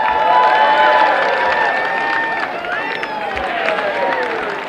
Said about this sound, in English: Cheer him on, everybody.